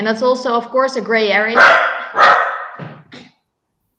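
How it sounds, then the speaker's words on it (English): A dog barks several times in quick yapping bursts, fairly close, overlapping with someone speaking, before falling silent at the end. "I'm very sorry about the dog."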